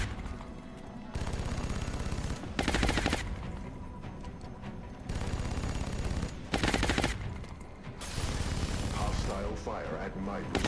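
Automatic weapon fire in XCOM: Enemy Unknown, sustained bursts of rapid gunfire alternating with louder, sharper volleys in a dense, continuous battle din, with game music or effects underneath.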